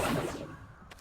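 A magical Accio summoning spell is cast in Hogwarts Legacy, producing a single loud rushing whoosh that swells at once and fades away, followed by a faint small tick.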